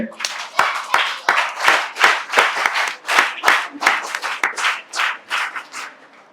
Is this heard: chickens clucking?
no